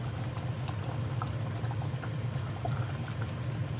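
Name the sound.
sauce boiling and reducing in a pot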